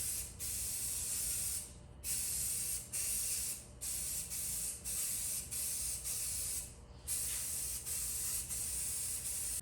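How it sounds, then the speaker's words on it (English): An aerosol can sprays edging primer onto rusted metal on a 1987 Chevy G20 van, a close, steady hiss in repeated bursts of roughly one to two seconds, each ended by a short pause. "I'm going to spray on some edging primer"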